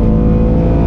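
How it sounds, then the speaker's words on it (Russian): Engine of a Lada Granta sleeper car revving hard, a loud continuous roar with steady harmonic drone, close and uninterrupted. "классно раскручивается мотор"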